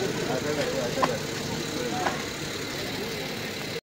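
A car from Alibag idles nearby, a steady low engine hum running throughout with faint clicks, then cutting off abruptly at the end.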